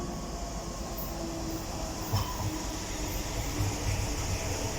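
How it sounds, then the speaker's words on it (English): A DLR train bound for Lewisham pulls into Greenwich station, a steady rumbling hum of the approaching carriages with faint mechanical whine, heard alone without talk. "here comes the DLR service going to Lewisham"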